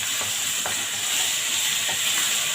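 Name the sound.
garlic frying and being stirred in a pan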